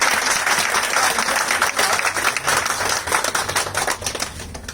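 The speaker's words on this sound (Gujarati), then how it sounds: "જોરદાર તાળીઓ સાથે સ્વાગત" Audience applause welcoming Mr. Ranjitbhai Vader to the stage at a Netsurf business training event, steady dense clapping from a crowd throughout, loud and unbroken with no speech.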